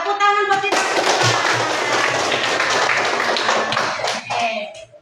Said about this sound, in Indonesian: Iya, tepuk tangan buat kita semua.